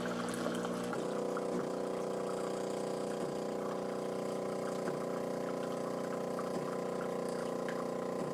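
Jura C9 automatic coffee maker dispensing hot water, a steady pump hum with a flowing, hissing stream, moderately quiet and continuous, with periodic soft clicks.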